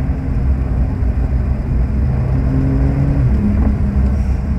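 A Porsche 911 Carrera S engine of 450 horsepower, heard from inside the car with a window open, gives a loud, steady low rumble with rising and shifting revs and no one speaking over it.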